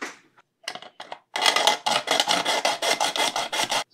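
A hand file rasps along the edge of a power bank enclosure in about a dozen quick, rhythmic strokes, loud and close, after a few short tentative scrapes.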